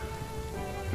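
Heavy rain pours steadily during a tabletop role-playing session, a dense, continuous hiss of drops hitting surfaces in a brief, even stretch with no talking.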